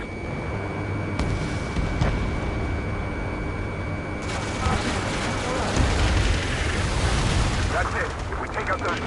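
A missile strike explodes in the Ace Combat 7 video game, with dense rumbling blasts and crackling debris over a continuous engine drone, plus a brief tone cutting out partway through.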